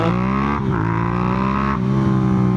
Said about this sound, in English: if you just twist the throttle